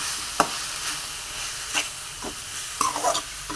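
Moringa flowers and grated coconut being stirred in a pan, with a few distinct scraping strokes of the spoon against the metal over a steady soft sizzle.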